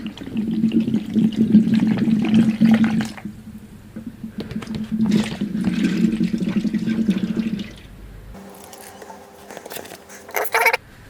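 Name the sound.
water draining from a custom PC water-cooling loop through a valve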